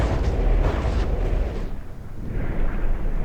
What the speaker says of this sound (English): Something's exploding.